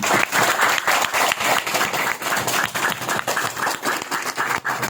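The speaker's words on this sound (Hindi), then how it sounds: "आप लोग ये लक्ष्मी जी के आज आने जोरदार तालियां बजाएं" Loud, dense applause from an audience welcoming a guest named Lakshmi at a devotional spiritual gathering, with steady rapid clapping that holds strong for the whole stretch.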